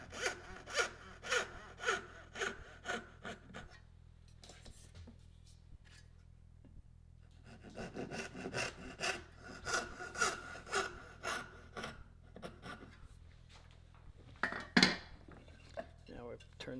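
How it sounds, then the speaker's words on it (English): A small dovetail saw makes a fine cut through wood, with two bursts of rapid, rhythmic rasping strokes separated by a quiet pause, ending in a sharper knock. "I'm going to use my dovetail saw on this just because it's a small, fine cut"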